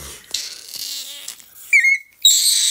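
An infant gives short, high-pitched squeaks in two bursts, close and clear, after some soft breathy noises at the start.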